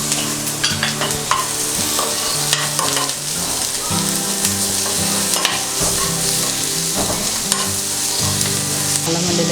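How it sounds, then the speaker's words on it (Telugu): Ginger garlic paste sizzling and frying in a pan, a steady close hiss broken by scraping stirs of a utensil against the pan, with no talking. "కొంచెం 1/2 టేబుల్ స్పూన్ అల్లం వెల్లుల్లి పేస్ట్ వేసి ఫ్రై చేసుకుందాం"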